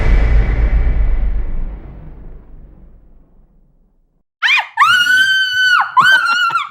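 A person screams in pain during a finger massage, two loud, shrill, wavering screams in quick succession following a fading rumble and a brief silence.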